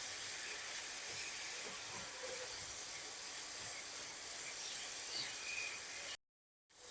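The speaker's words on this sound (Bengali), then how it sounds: "এরপর এটাকে ভালো করে কষিয়ে নিতে হবে।" Spice paste of turmeric, chilli and Kashmiri chilli powder fries in a pan for a Bengali fish curry, giving a faint, steady hiss and sizzle with scattered soft scraping, then a brief cutoff into silence at the end.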